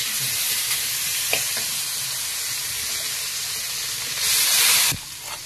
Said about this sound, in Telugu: వేడెక్కేసింది బాండిలి. ఇప్పుడు వెన్న వేసుకుంటున్నానండి.